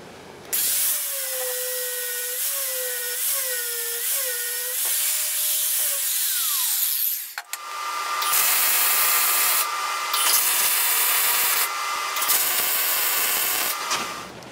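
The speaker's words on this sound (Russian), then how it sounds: "зачищаем лепестковым диском сварные швы" A flap disc grinds weld seams on a steel profile-tube shelving frame, a sustained high whine running steadily for several seconds, then shifting to a harsher, broader grinding roar with brief pauses, close and loud with no talk.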